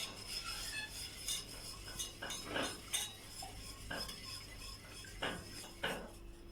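Tarhana soup is stirred in a pot, giving faint, repeated scraping and clinking strokes of a utensil against the pot at a steady, unhurried rhythm with no talk.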